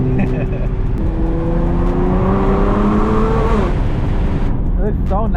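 A Nissan GT-R with a loud exhaust pulls hard along a canyon road, its engine note climbing steadily before easing off near the end, close and loud throughout.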